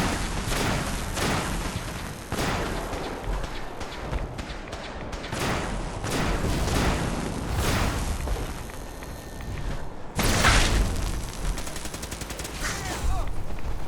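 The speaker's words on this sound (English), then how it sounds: "He's got a Tesla cannon." A Tesla cannon fires a continuous barrage of loud explosive blasts and crackling gunfire in the Fallout 4 video game, with one especially heavy boom near the end and talk mixed in beneath.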